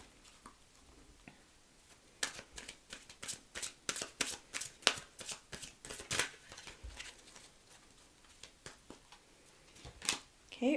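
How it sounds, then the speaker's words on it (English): Tarot cards are shuffled up close in a quiet room, making a rapid run of crisp riffling flicks and soft slaps that starts quietly and then keeps up an uneven rhythm for several seconds, with no talking. "let's have a look at a couple of tarot cards just for some additional information"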